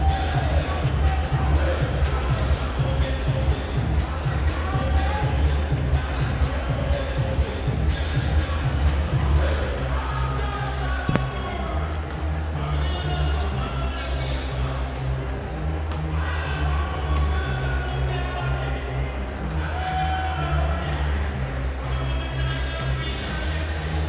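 Steady crowd murmur fills the main gym of the University of Alberta at a university volleyball match, a continuous broadband hubbub of spectators with low rumble, no single voice standing out.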